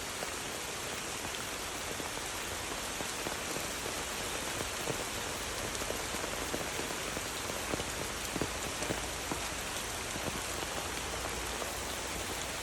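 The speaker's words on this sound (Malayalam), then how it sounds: "എന്താ വെള്ളത്തിൽ സ്പീഡ് ഉഷാറായിട്ട് വരുന്നുണ്ട് കേട്ടോ മഴ പെയ്ത് പുതിയ വെള്ളം വന്ന് തോട്ടിലെ ആറാട്ടാണ്" Steady broadband rush of a stream swollen after rain, close and continuous, with scattered patter like droplets on top; no voices.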